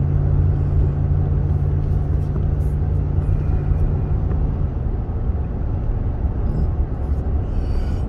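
V8 pickup truck towing a motorcycle on a trailer rumbles along steadily from inside the cab, a loud continuous low road and engine drone with a faint hum in the first few seconds. No one speaks.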